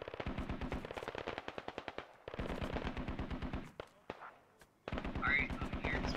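Sustained automatic machine gun fire in the video game Squad Ops, loud and close, with long rapid bursts of shots broken by short pauses, and a final burst after a brief quieter gap.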